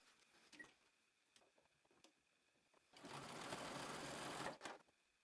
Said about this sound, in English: I'm going to head to my sewing machine and I'm going to use a stretch stitch or a zigzag stitch